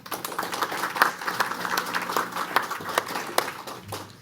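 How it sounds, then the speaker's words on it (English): A small audience at a college board of governors meeting claps for an award honoree, scattered hand claps pattering steadily and fairly close, with no voices over them. "let's give her a round of applause"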